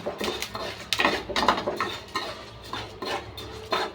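A metal spoon stirs urad, moong and toor dal roasting together in a pan, with close, irregular scraping and clinking against the metal and only a faint sizzle beneath.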